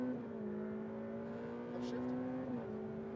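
A Ferrari F8 Tributo engine drones steadily on a track, climbing in pitch and dipping briefly as it shifts, heard fairly faint beneath an instructor's voice talking over it.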